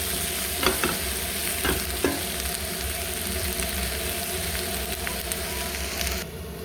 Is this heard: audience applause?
no